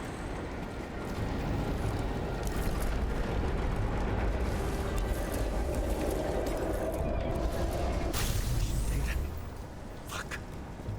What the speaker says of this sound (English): So we don't know what caused the explosion.